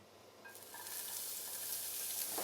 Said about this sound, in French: L'autre partie, nous allons la cuire à la poêle avec l'oignon, la sauce tomate et le thym frais.